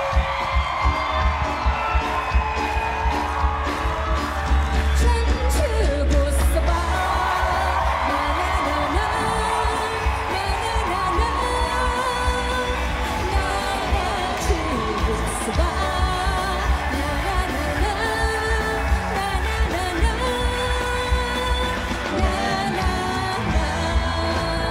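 A TV singing show audience sings along and cheers together, a dense, steady crowd roar with music underneath throughout.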